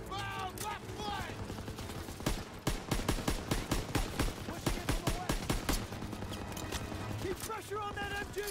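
Machine gun fire in a World War 2 Call of Duty campaign battle, rapid rattling bursts of automatic shots, with voices shouting over the fighting.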